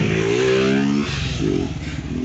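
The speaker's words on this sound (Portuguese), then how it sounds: "olha o carro vindo ali de novo" A car passes nearby on a road, its engine droning loudly with a brief rising whine in the middle.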